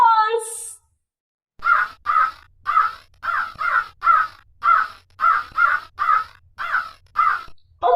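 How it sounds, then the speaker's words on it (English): A crow caws about a dozen times in a steady, evenly spaced rhythm, loud and close, after a short different animal call at the start. "Right, it's a crow."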